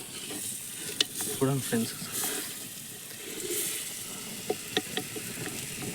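Food fries in a pan in a village kitchen while being stirred, a steady sizzle punctuated by clinks and scrapes of the spoon, with a brief spoken remark over it.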